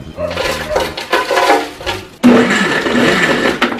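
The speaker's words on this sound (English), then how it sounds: "you can put it in your blender." A blender crushes ice for a frozen margarita, giving a dense grinding whir that shifts into a louder, steadier churn partway through.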